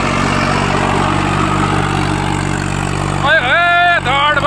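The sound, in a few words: Swaraj 744 XT tractor engine running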